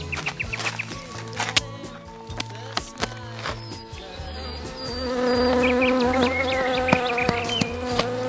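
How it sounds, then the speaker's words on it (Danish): Bees buzzing outdoors in a Danish wooded setting, a steady droning hum with scattered knocks and rustles, growing fuller and louder in the second half, with no talk. "Bier, de er ikke til at rømme."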